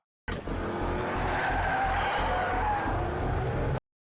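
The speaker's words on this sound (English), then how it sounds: "I love a good car chase." Tires squeal and skid during a car chase in the TV drama The Americans, a loud sustained screech with engine roar, heard alone without talk.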